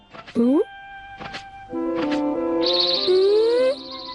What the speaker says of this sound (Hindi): अब तो चिड़ियों का चहचहाना भी अच्छी तरह सुनाई दे रहा है।